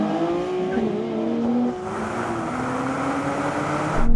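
A Nissan 240 launches hard and pulls away under full throttle, its engine note climbing steadily through the first gear, then dropping briefly at the shift before rising again, loud and close with faint tyre noise.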